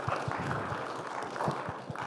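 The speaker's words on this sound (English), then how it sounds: "give a round of applause to Mr." A conference audience claps for a presenter after an oral session talk: a modest spatter of applause, somewhat distant and thin, with a few distinct hand claps standing out over the room.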